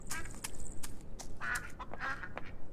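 Ducks quacking on a farm in the video game Farm Together, a few short nasal quacks scattered over a steady ambient game background, fairly close and moderately loud.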